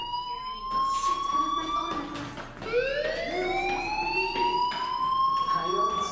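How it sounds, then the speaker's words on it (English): A loud electronic fire alarm in the video game Life Is Strange wails with rising, repeating tones, continuous throughout, with rapid pulsing bursts layered over it. "Hey, do you hear that fire alarm?"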